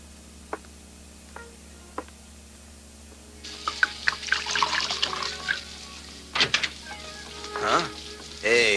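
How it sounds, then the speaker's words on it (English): Wine poured into a glass indoors, with a few isolated clicks at first, then a bubbling, splashing liquid stream in bursts that rises and falls, fairly close and moderately loud, without talk. "Okay if I open it and pour us a drink, babe?"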